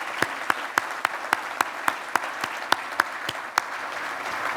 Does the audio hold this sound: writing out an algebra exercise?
no